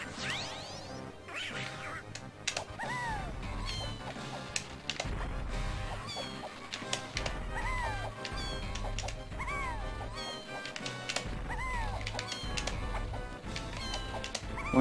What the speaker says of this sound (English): She's a very bossy cat.